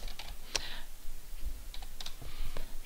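Someone types a file name on a computer keyboard, producing a few scattered, fairly quiet key clicks over a soft background.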